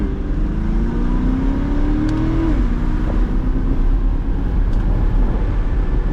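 A 2020s Chevrolet C8 Corvette sports car engine, not fully warmed up, idles and revs in weather drive mode, its pitch climbing briefly then dropping back, with a steady low mechanical drone throughout.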